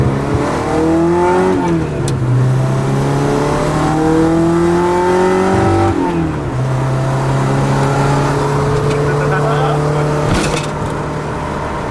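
A Kei truck with an adjusted rev limiter drives along, its small engine revving loud and close from inside the cab, pitch climbing through gears and dropping at each shift, with the drone constant throughout.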